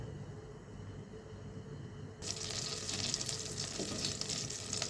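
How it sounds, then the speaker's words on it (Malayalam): Butter melting in a hot pan before zucchini and carrot go in, a soft hush that bursts into a steady, close crackling sizzle partway through, running alone without talk. "ബട്ടർ ചൂടാകുന്നുണ്ട്."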